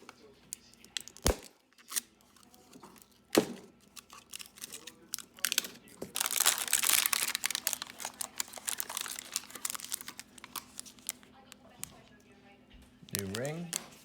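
Packaging of a chainsaw big bore kit for a Dolmar PS-7300/7900 80cc being unwrapped, close crinkling, tearing and rustling of plastic and paper with sharp handling clicks, busiest in the middle.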